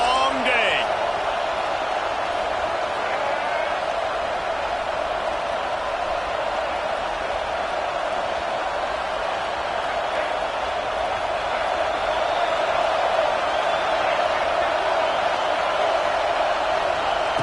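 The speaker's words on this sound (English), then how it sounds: "This crowd, full throat, spreading the eardrums and letting them know it's going to be a long day" A packed college football stadium crowd roars in a dense, sustained wall of cheering that never lets up, with a commentator's voice running over it.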